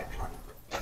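A frightened dog gives brief soft whimpers and a short yip within under a second, close by and quiet.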